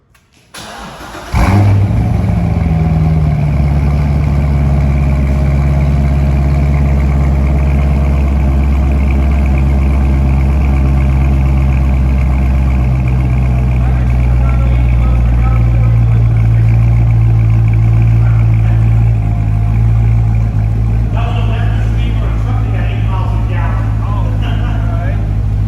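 A Corvette Z06 with an LS7 V8 fires up after a brief crank and settles into a loud, lumpy idle that rises and falls with throttle blips, close by; no talk over it.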